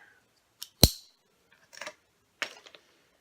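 A sharp craft knife cutting through paper on a small cutting mat, a few short crisp scrapes and clicks separated by silence, close and fairly quiet.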